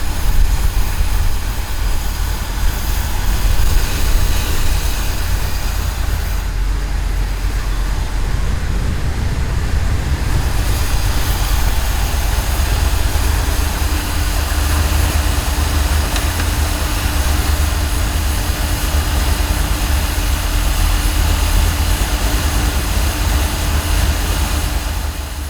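A 1978 Chevrolet Corvette 25th Anniversary Edition engine idles steadily during a timing check and carburetor adjustment, a continuous loud, droning rumble with a brief dip partway through.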